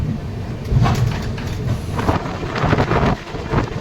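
Rupasi Bangla Express train pulling out of Santragachi Junction on a fine morning, a steady broadband rumble with wind buffeting the microphone, continuous and fairly loud with no voices.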